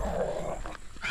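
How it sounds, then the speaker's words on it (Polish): A mongrel dog in a Polish mountain village gives a short, close, low growling sound lasting about a second, fairly loud with no talking over it. "Patrzcie, jaki burek."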